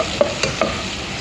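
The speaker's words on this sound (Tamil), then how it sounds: "ஆயில் சூடாகிடுச்சு வெங்காயம் போடுவோம்" Onions being fried in hot oil for Arabic-style mutton salona, with a close sizzling hiss marked by three quick, sharp spoon strikes against the pan.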